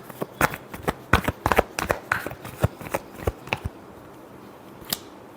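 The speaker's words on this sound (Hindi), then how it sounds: "last shuffle" Tarot cards are shuffled close by in a quick run of crisp riffling slaps and flicks, which slow to a few scattered taps near the end.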